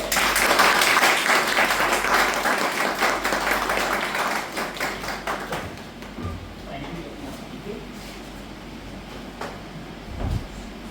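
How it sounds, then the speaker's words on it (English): A crowd at a Toastmasters club meeting claps loudly and steadily, the applause thinning and fading out over the last few seconds. "please give a big round of applause to welcome our distinguished Toastmaster Abhijit on the stage"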